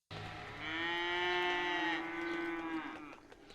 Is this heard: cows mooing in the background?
yes